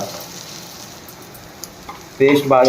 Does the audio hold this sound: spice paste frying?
yes